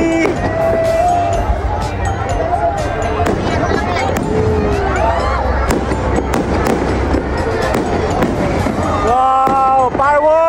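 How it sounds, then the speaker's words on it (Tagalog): Fireworks burst repeatedly during a Christmas capitol light show in Quezon, with crackling pops and booms mixed into a lively crowd, while people chatter and exclaim throughout. "Wow, fireworks."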